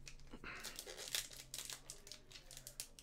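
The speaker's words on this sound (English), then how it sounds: "Probably going to go ahead and open the Sword of Shield pack first." Crinkling and crumpling of a Pokémon Sword and Shield booster pack wrapper being opened by hand, a close, busy run of crackly foil rustles with a few sharper tearing bursts and no talk.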